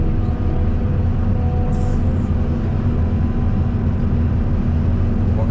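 Heavy machinery loading a dump truck at an earthworks site where a slope is being repaired: a loud, steady low diesel engine drone persists throughout, with brief higher-pitched mechanical sounds near the middle.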